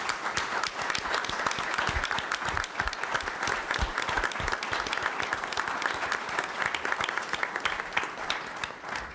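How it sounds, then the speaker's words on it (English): Sustained audience applause fills a congressional briefing on cancer progress, a dense steady clapping from a sizable crowd honoring cancer survivors, loud and continuous throughout with no pauses. "let's give the survivors an extra round of applause"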